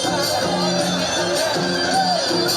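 A crowd of youths celebrating Holi on a Kathmandu street shouts, whoops and hoots over continuous crowd noise, with scattered louder cries rising above the steady din.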